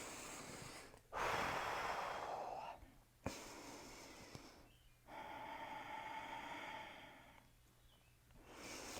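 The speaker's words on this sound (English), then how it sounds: "Breathe." Deep audible breaths during a yoga pose, a few slow, close inhales and exhales with soft sighing texture, separated by quiet gaps.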